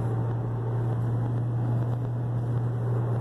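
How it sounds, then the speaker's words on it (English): Steady wind rushes and buffets a microphone outdoors in the cold before dawn, a constant low roar with a droning hum underneath and no talking. "Kind of windy. We got a little wind."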